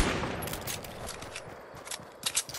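Gunfire in a Fortnite squad match comes as a rapid, fairly loud string of shots, with closer bursts near the end.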